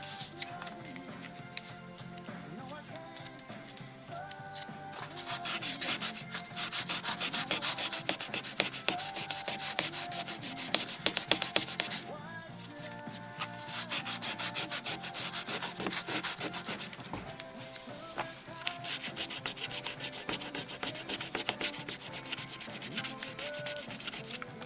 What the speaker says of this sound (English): we're going to sand off the excess paint. What's cool is this sandpaper, it does not seem to harm the bakelite knobs at all.